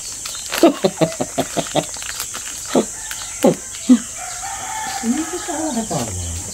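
Short vocal bursts sound in a quick series, then a long drawn-out rooster crow rises and falls near the end over faint insect buzz.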